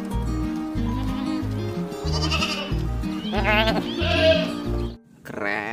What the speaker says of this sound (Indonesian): Wih, ada kambing.